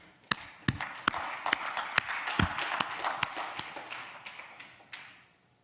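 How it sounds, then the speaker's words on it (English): A small lecture audience claps in scattered, uneven bursts: a few sharp nearby claps and a softer spread of clapping that fades out over several seconds. "So let's just clap for you."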